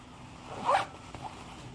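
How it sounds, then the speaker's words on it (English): A single short zipper pull on tactical pants, close and quiet, a quick rasp lasting under a second in a still room. "Decent quality zipper."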